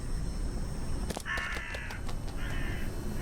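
A crow caws in the horror video game Stigmatized Property, two harsh raspy calls at a moderate distance over a steady low ambient hum, with no talking.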